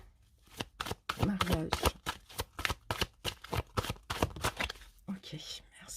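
Tarot cards being shuffled, a rapid run of crisp, close riffling card flicks in quick rhythm, with a soft voice speaking briefly in between.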